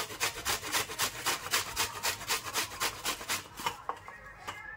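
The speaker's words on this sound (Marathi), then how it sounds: "त्याच्यासाठी गाजर किसते." A carrot is grated on the large side of a box grater, quick rhythmic rasping strokes repeating evenly and close by, then slowing and thinning out toward the end, with no voices.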